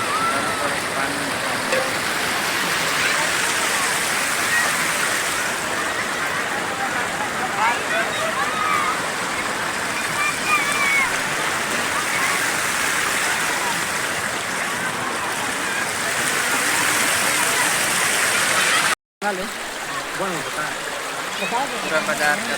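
Fast-moving floodwater rushes steadily through a village market in a broad, continuous roar, with faint voices now and then beneath the flow.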